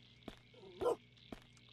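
A dog in a Korean zombie video game gives one short, muffled bark between soft footstep-like thumps, quiet and close against a steady low game background hum.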